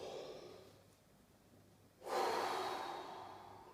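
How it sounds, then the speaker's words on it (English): A big, deep, relaxed breath, a faint slow inhale followed by a sudden, fuller airy exhale that fades gradually, close and alone. "you take the biggest, deepest, relaxed breath and you go."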